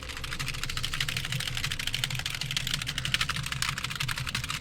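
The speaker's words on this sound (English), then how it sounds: "Mash the keyboard." A computer keyboard gets mashed rapidly and continuously, a dense, steady clatter of fast key presses heard up close with no pauses.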